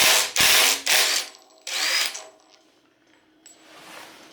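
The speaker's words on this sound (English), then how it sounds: "So now we'll go ahead and we'll remove our cam bolt." A ratchet wrench loosens the cam bolt on a 4.7 stroker engine during a teardown, with three loud bursts of rapid clicking, a pause, then a longer run of ratcheting that fades to faint clicks.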